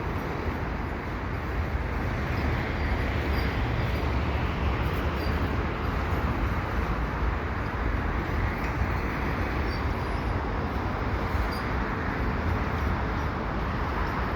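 A CPKC test train rolls past at Lachine, a steady broadband rumble and rail roar that stays close and constant throughout, with no voices over it.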